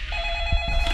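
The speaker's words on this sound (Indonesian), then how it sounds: "mendengar suara ponsel berdering" A mobile phone rings in a tense Korean drama scene during a deadly class game, its tonal ring steady and fairly close beneath faint background sounds, with a brief burst of noise at the end.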